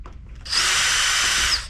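A power driver fitted with a T8 Torx bit whirs steadily for about a second while backing out a hard drive screw from an older PC, close and loud with a brief spin-up and stop.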